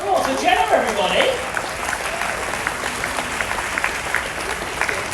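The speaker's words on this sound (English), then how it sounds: "A huge round of applause for Jenna, everybody." Audience applause at a live mind-reading stage show, steady crowd clapping with a voice speaking over the start.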